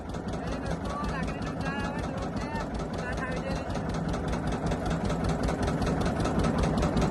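A fishing boat engine on the Narmada river runs in reverse, a loud, close, steady chugging drone with a fast rhythmic pulse that continues throughout, with voices faintly underneath.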